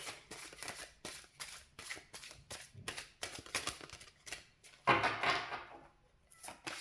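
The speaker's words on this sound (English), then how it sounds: "that's just bad shuffling" Tarot cards are shuffled by hand in a series of quick, close riffling bursts and soft taps, with a denser burst near the end and no talk.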